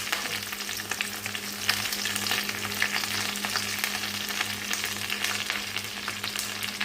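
Two handfuls of curry leaves frying in hot oil for a curry leaf kuzhambu, a continuous close crackling sizzle with a steady low hum underneath and no voices.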